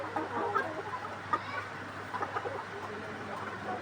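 A laying hen clucks softly in short, irregular bursts, fairly faint against a low steady hum, with a few louder clucks standing out.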